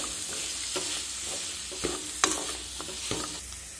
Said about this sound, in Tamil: சேர்த்து இந்த மசாலாவை நல்லா வதக்கி எடுத்துக்கோங்க.